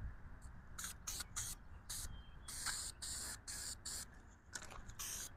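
Short hissing bursts of oil spray hit a Weber carburetor air filter from a Mazda B2200/B2000, close by in a quick uneven series with short gaps, and nobody speaks.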